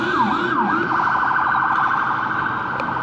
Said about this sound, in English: Sorry, got an ambulance coming by.